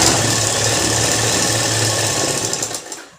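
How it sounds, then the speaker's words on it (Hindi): A sewing machine runs fast and steady, stitching a double seam on a lined salwar, a close, continuous whirring hum that slows and stops at the end. "तो यहाँ पे हम इसको ऐसे स्टिच कर देंगे और यहाँ पे हम डबल सिलाई लगाएंगे।"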